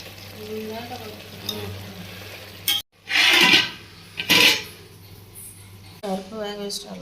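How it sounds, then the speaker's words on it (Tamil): Drumstick (moringa) pieces tempered in hot oil in a pan with rock salt and turmeric for a lentil sambar. Two loud bursts of sizzling flare up, with a voice speaking before and after. "அதுக்குள்ளே முருங்கைக்காய் போட்டு தாளிச்சு விட்டுக்கிறேன்."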